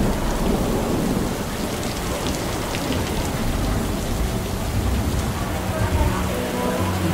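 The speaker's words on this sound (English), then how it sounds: "the rain's just got harder and harder and harder." Heavy rain pours down at a shelter in Mui Ne, Vietnam, a dense continuous hiss of drops on surfaces, loud and steady throughout with low rumbling underneath.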